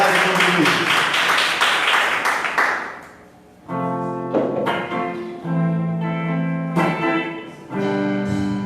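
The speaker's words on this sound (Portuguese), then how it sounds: "Aplauda o nome do Senhor Jesus." A congregation at a Portuguese-language family church service breaks into brisk, crowded clapping for about three seconds, which dies away as sustained keyboard or organ chords take over.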